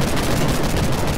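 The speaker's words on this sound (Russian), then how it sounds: "Смотрите, как вертолет классно это взрывается." A helicopter blowing up in the sandbox game Garry's Mod, a loud, dense blast of crackling, roaring noise that fills the whole short moment without letting up.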